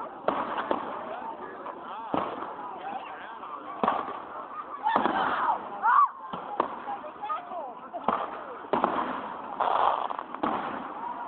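Fireworks go off at a small-town harvest festival: sharp pops and bursts at irregular intervals, moderately distant, mixed with crowd voices and honking sounds.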